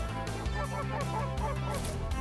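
Geese on a lake during a fall goose hunt honk in a dense, continuous chorus, many calls overlapping at a moderate distance.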